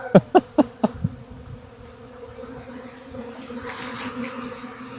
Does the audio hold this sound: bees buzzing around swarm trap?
yes